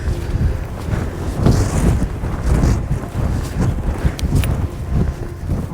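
Strong wind buffets the microphone on a mountain summit cairn in the Lake District fells, a continuous rough rumble with gusty swells throughout.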